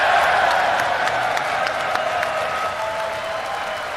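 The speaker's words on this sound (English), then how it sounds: "They wanted the cheer from the crowd." A live crowd at a Star Citizen livestream event claps and cheers in a dense, sustained roar of applause that gradually eases, heard from within the audience.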